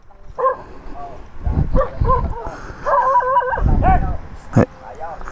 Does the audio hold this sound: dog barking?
yes